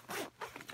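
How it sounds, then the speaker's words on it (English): A zipper on an EMS backpack is pulled in two quick strokes, a longer zip followed by a shorter, choppier one, close and fairly quiet. "The zippers aren't great."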